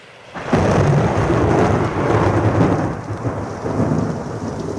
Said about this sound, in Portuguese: A chuva fica ainda mais pesada em Roma.